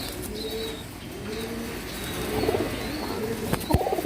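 English fantail pigeons in cages cooing in soft, repeated throaty calls close by, with a few sharper chirps and a brief rustle of wings over a faint background hum.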